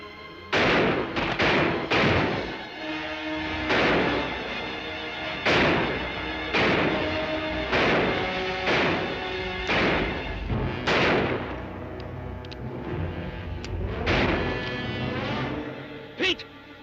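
Gunfire crackles in a 1955 western film, with repeated loud shots spaced a second or two apart over a continuous dense background of action noise.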